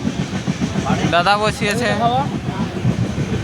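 Steady rumble and rattle of a moving passenger train heard from inside a carriage, on a journey toward Chennai through hilly country, with people talking close by throughout.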